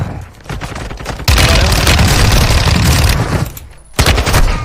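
Shotgun and rifle fire erupt in a Warzone 2 firefight, a loud, sustained burst of overlapping gunshots lasting a few seconds, framed by quieter pauses and sharp single blasts near the end.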